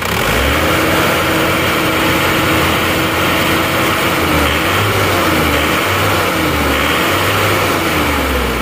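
Isuzu Panther engine with no thermostat fitted is revved repeatedly while radiator circulation is checked, loud steady idle broken by several rhythmic throttle bursts, with no talk over it.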